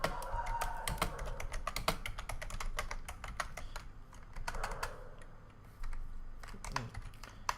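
Rapid typing on a computer keyboard during Python coding work, dense irregular clicks and key taps running steadily throughout, close and fairly loud with brief pauses.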